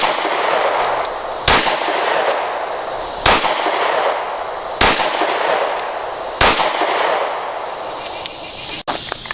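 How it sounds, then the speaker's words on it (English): A Springfield Armory Hellcat pistol fires at a target: four sharp, loud shots spaced evenly about a second and a half apart, then one more near the end, over a faint steady background hiss. "Alright, shooting the Hellcat first. Going to shoot for the center of the target."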